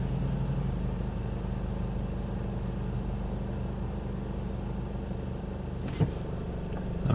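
Steady, low rumble of road noise from inside a car on a drive home, with other traffic passing on the road and a brief bump near the end.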